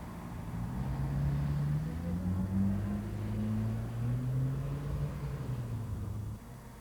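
A lorry driven hard during a police chase, its engine a steady low rumbling drone with rising and falling tones, close and continuous before easing slightly near the end.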